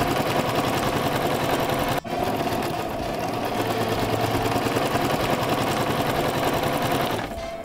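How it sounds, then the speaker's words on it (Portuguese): A domestic sewing machine stitches fabric with a fast, even mechanical whir close by. There is a brief catch around the middle, and it winds down near the end. "como tá costurando na máquina doméstica, na hora que vai passar nas partes mais grossas, tem que passar mais devagarzinho, senão quebra a agulha"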